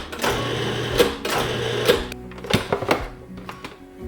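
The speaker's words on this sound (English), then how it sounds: "I'm going to pulse this a few times just to combine the 2 ingredients." A food processor pulses powdered sugar and almond flour in a few short bursts of whirring motor, each cut off sharply, then quieter clatter and knocks.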